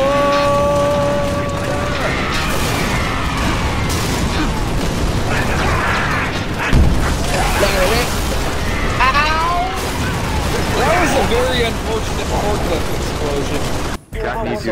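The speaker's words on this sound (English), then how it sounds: "Very unfortunate forklift explosion." A forklift blows up in Halo: Reach amid booming blasts and mechanical clatter, loud and close, with gunfire-like bursts scattered through the fight while players talk over the din.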